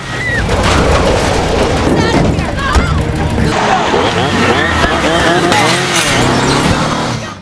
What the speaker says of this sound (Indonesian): Ryan dan Nicky melihat sebuah mobil yang sedang meluncur ke arah mereka.